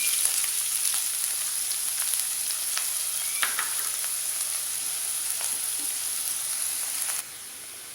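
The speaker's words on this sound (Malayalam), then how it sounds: "എണ്ണ ചൂടായിട്ടുണ്ട്. ഇതിലേക്ക് ഒരു ഉള്ളി ചെറുതായി അരിഞ്ഞത് ഇട്ട് കൊടുക്കാം." Finely chopped onion frying in hot oil: a steady, close sizzle and hiss with scattered small pops and faint stirring scrapes, easing slightly near the end, with no talk.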